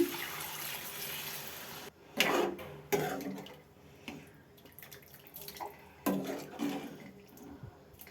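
Water is poured into a pot of raw green mango and drumstick curry, giving several splashy pours with pauses between them, close by and moderately loud, with no talking.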